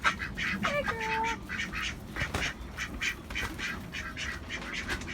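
Ducks on a windy morning at a farm give a few brief quacks early on, then stay quiet under constant wind noise and faint rustling.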